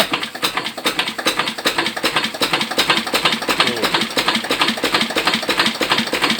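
An antique Lister engine revs hard, its rapid firing beats hammering in a loud, steady, close-up rhythm with no voices over it.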